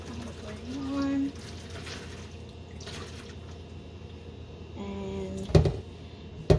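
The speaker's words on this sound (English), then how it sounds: "I'm going to squeeze some of the water out of the yarn" Wet yarn dyed in food colouring is squeezed by hand, giving soft squelches and dripping, trickling water, with a few louder splashes near the end and a brief hum in the background.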